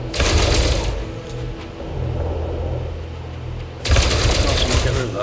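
Ship weapons fire at rocks in the space game Elite Dangerous, making a loud, continuous mechanical buzzing rattle in two bursts separated by a lower, steadier rumble.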